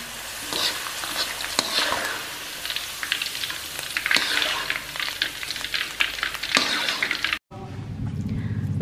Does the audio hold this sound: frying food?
yes